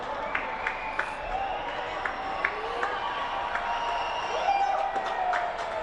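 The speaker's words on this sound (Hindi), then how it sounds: "लोगों के जोश की आवाज आपको सुनाई दे रही होगी।" A large crowd at Auckland's New Year fireworks cheers and claps in a continuous broad roar, with scattered whistles and shouts rising through it, fairly distant and diffuse.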